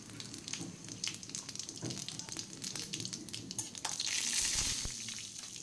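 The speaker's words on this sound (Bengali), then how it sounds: "এটাও আমি ছুঁকে নেব। শুকনো লঙ্কা দিলাম" Dry red chilli and five-spice seeds sizzling in hot oil to temper a mung dal cooked with bottle gourd, a faint steady crackle with small pops that swells into a brief hiss near the end.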